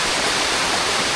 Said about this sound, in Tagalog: Yung waterfalls ng Daranac Falls. Ganda oh, nanggagaling yung tubig sa taas.